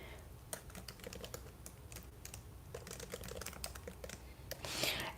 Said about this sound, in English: clearly I can't type and talk at the same time